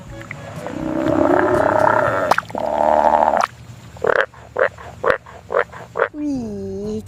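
A frog croaks in a quick series of about six short, rhythmic calls, ending in a longer drawn-out croak, following a stretch of steady, busier animal-like noise.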